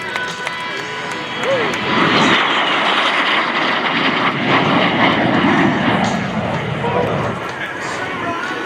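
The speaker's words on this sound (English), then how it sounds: "Watch closely here, ladies and gentlemen, as Greg brings the aircraft in nice and low" Lockheed T-33 Shooting Star jet making a low smoke pass at a Texas airshow, a continuous loud roaring rush of engine noise sustained throughout, with a crowd murmuring beneath it.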